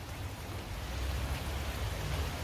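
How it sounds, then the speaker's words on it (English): Steady, soft rain falls outside a garage, a fairly quiet, even hiss of drops with no voices. "it is raining outside"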